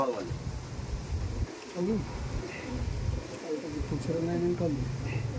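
Andhra pigeons coo in soft repeated calls close by, mixed with a steady background murmur and voices talking.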